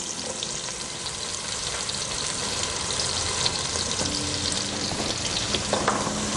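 Onions fry in a pan with a little ghee for an iftar dish, giving a continuous, close sizzle with faint stirring scrapes and no talking.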